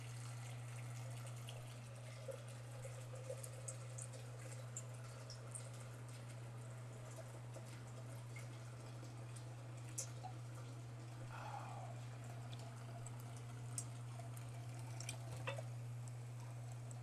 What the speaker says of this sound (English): I'm going to get some water going for eggs really quick.